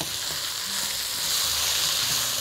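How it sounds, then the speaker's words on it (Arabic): Spiced boiled lentils frying in a pan with salt, black pepper and plenty of extra pepper, a steady close sizzle with faint scraping as they are stirred, building slightly louder toward the end. "نقلب بقى، ندخل كل الحاجات في بعضها"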